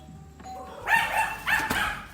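A two-tone doorbell chime rings twice in quick succession, then dogs start barking in response, somewhat distant and overlapping with the chime's decay.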